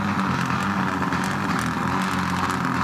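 A rally car on a forest stage, heard as a steady broadband engine and road roar lasting about three seconds at moderate distance, with no voices.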